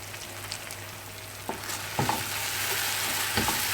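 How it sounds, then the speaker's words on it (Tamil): Onions sauté in a hot pan for a banana flower vegetarian fish curry, sizzling steadily with a few clinks of stirring, close and moderately quiet, with no talk. "வெங்காயம் சேர்த்து நல்லா வதக்கணும்."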